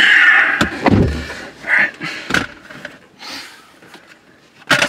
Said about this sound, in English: I want to open the door.